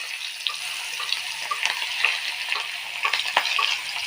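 Onions hit hot oil in a wok in a home kitchen, giving a dense, close, steady sizzle with scattered crackles and pops throughout, no voices.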